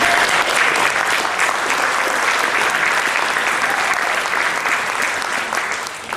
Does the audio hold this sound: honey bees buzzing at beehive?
no